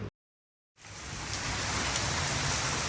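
Heavy rain pours down in a village, a loud, dense, steady hiss that starts abruptly after a brief moment of silence and keeps going without talk.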